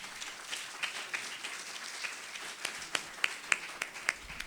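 Audience applause at the National Black Writers Conference award ceremony, a scattered, fairly faint patter of claps with a few sharper individual claps standing out near the end.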